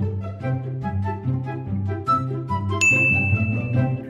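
A bright notification-style ding rings out near the end, a single clear tone that lingers steadily over a continuous musical backing. It is the familiar subscribe-bell chime.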